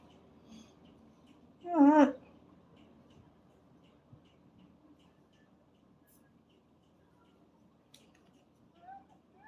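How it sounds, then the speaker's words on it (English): A single short, loud meow rises and falls once in an otherwise quiet room, followed by faint scattered small noises. "Did you hear the cat? She's so very noisy."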